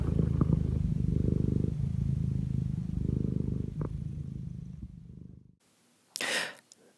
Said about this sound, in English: rolled himself up like a cat and purred himself to sleep in a minute